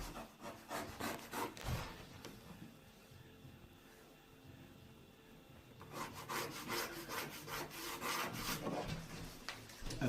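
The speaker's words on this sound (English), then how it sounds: "I'm shading that to be absolutely sure that I'm making the right cut" Pencil shading over a scribe mark on a wooden alcove countertop, a run of dry rubbing, scratchy strokes in two bursts separated by a quieter gap, close and fairly faint.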